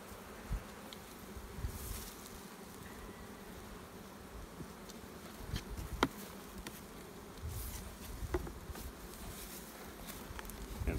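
Honey bees in an opened nuc hive hum and buzz in a soft, steady drone, close by, with occasional faint rustles and knocks from frames being handled.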